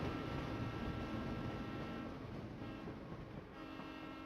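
A fancy-looking train rolls through a cutscene in the puzzle adventure game Professor Layton and Pandora's Box, a loud steady rumble of wheels and carriages with a sustained tonal horn-like layer, close and continuous throughout.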